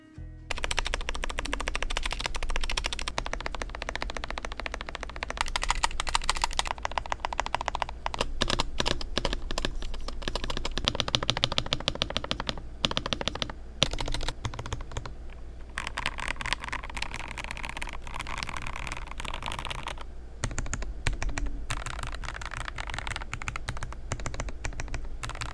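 Typing on a Rakk Sinag98 mechanical keyboard with lubed stabilizers gives a steady, dense run of close, crisp keystrokes over about twenty-five seconds, with occasional brief pauses and no voices.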